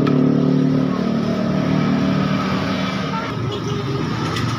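A Yamaha RX King motorcycle with hard gear shifting and trouble finding neutral idles loudly at close range. The engine gives a steady rough two-stroke drone that eases slightly partway through.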